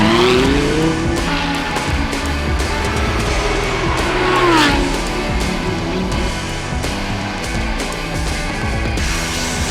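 Lamborghini Cup race cars roar around the Sepang circuit, loud and continuous engine drone with rising and falling pitch as cars pass, plus tire squeal, all without any voices.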